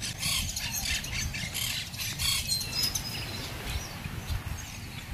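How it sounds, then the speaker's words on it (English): Puerto Rican parrots nesting in palm trees at Balneario Boquerón, Cabo Rojo, give scattered squawks and chirps over a steady outdoor background hum, with no talking. "Those are the cotorras de Puerto Rico, or Puerto Rican parrot."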